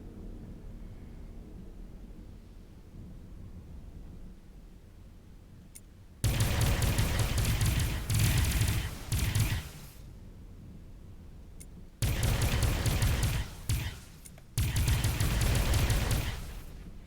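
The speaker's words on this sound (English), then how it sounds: "Be careful shooting at things when we're right next to a station." Ship weapons firing in the space game Avorion, long rapid bursts of loud crackling gunfire that start and stop abruptly, separated by quieter stretches of low engine hum.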